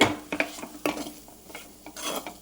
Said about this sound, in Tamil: இன்னும் கொஞ்சம் நேரம் வச்சு வதக்கிக்கோங்க